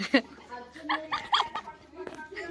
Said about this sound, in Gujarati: ઈવનનું ડોગી છે